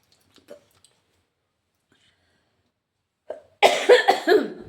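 A woman coughs, with a few faint clicks and small sounds in near-silence first, then a short loud burst of harsh, close coughs near the end.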